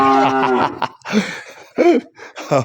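Hungry cattle on a Punjab village farm moo in a few low, drawn-out calls, loud and close, separated by short pauses with no talk.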